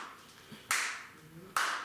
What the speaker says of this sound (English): oh, look, there's a man on the beach clapping.